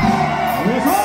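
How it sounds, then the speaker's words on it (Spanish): A live concert crowd at a show in South Carolina shouts the Mexican grito, a brief loud mass of whoops and yells heard near and filling the space. "queremos escuchar humildemente el grito mexicano"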